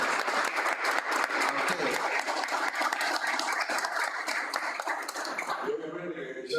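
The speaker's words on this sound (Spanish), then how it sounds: "yo pido un fuerte aplauso" An audience at a talk on Cardinal Cisneros and the missionary plan for the Indies claps steadily for several seconds, then the applause cuts off abruptly near the end.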